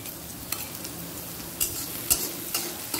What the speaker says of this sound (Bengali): পেঁয়াজ রসুন আর লঙ্কা কুচি একই সাথে দিয়ে দিলাম